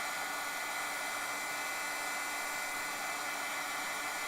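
A handheld heat tool drying a handmade rainbow card between layers gives a steady, close, high-pitched whirring blow that holds evenly from start to end, with no voices.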